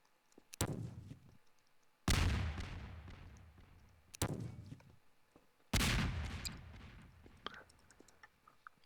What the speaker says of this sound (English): It launches grenades.